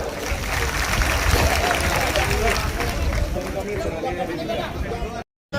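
Loud, sustained applause and cheering erupt from a large crowd at a peaceful Buddhist protest march in Jafrabad, dense clapping filling the air before cutting off abruptly.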